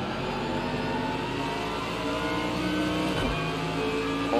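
A Mercedes AMG GT3 race car in Project Cars 2 screams around the Nordschleife, its engine note loud and sustained with rising and falling revs and a brief gear-change dip, no talking.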